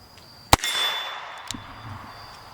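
A sharp gunshot from a Smith & Wesson Pre-Victory Model .38 S&W revolver cracks, followed by a bright metallic ring from a struck steel gong that lingers and fades, then a second fainter impact; outdoors, no talking.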